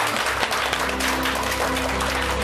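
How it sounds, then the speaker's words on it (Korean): A studio audience claps through the whole span in a steady, fairly loud wash of applause, with no talk on top. "다시 한 번 더 큰 박수 부탁드리겠습니다"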